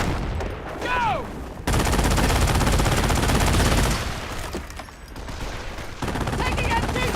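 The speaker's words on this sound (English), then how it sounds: "Taking MG fire!" Machine gun fire in Company of Heroes, a long, loud, steady burst of rapid shots in the middle, with shorter gunfire bursts and battle noise around it and voices calling out between.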